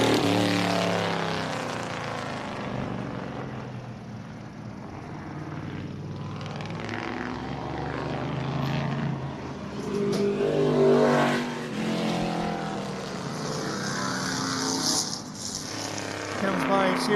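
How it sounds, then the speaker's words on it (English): A vintage race truck from the truck series, with an engine fitted with bigger valves and camshaft, runs at the American Speed Festival at M1 Concourse. It roars louder as it approaches, passes close around the midpoint, then fades, with voices heard around it. "Listen into the truck now."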